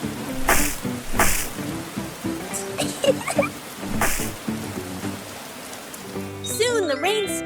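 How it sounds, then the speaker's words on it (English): Steady cartoon rain from Peppa Pig patters over a low rumble, broken by a few sharp bursts and splashes, with a whistly tone rising near the end. "The rain fell pitter-patter, forming big puddles all over the ground."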